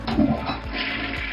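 A toilet flushes in a continuous rushing, gurgling wash of water that stays steady and fairly close for the whole short moment, with no talking.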